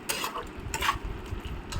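Potato and pointed gourd curry simmering in a pan, a soft steady bubbling and sizzle with faint stirring scrapes, close and low in level, no talk.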